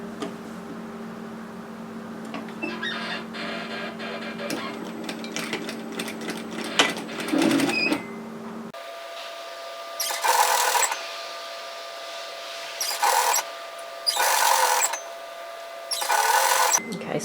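A sewing machine stitches a sweater seam at 1 centimetre, running in a steady mechanical whir, then in several short loud bursts with pauses between.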